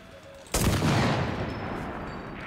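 A main gun fires a single loud, sharp blast in the video game Enlisted, breaking a quiet stretch and then fading into a long, rumbling decay.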